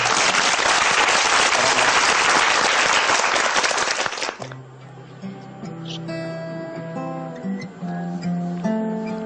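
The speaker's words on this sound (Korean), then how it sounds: "야, 박수를 한번 청해보겠습니다." An audience claps loudly and steadily for about four seconds, then the applause stops abruptly and a softer musical passage takes over.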